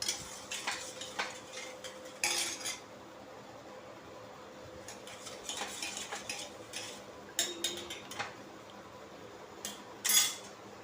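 A spoon stirring sugar into a sherbet in a vessel, with intermittent metallic clinks and scrapes against the sides over a quiet background, close up and without speech.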